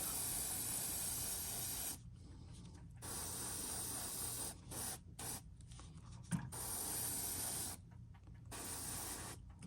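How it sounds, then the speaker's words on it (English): White aerosol paint hisses onto a fishing lure in several bursts, long sprays broken by short pauses, with faint handling sounds between them. "It's hard to spray when things moving."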